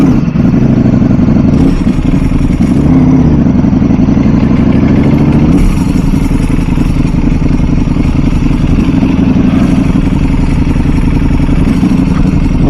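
A 2024 Ducati Panigale V4 SP2 916 anniversary edition, number 110 of 500, rumbles close up at a steady idle with a few light blips of the throttle, loud and continuous with no talk.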